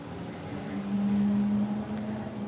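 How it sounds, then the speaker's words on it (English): Trucks and other traffic pass outside open sliding glass doors, heard indoors as a low, steady rumble that swells in the middle with a sustained engine hum, then eases off, with no talking. "so you might hear the trucks and stuff going by."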